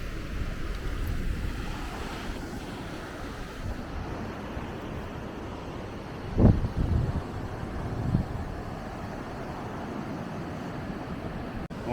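Ocean surf on a Galapagos beach on Isabela Island, a soft, steady wash of waves with wind noise, one stronger surge breaking partway through, fairly distant and with no talk.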